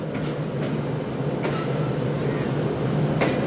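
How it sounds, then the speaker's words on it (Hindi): Shalimar Express pulling out of Khanpur railway station in the evening, a steady, dense rumble of the moving train with a few faint clanks and squeaks over it, loud and continuous throughout. "शाम के 6:10 पर दोस्तों ट्रेन खानपुर रेलवे स्टेशन से हुई है रवाना"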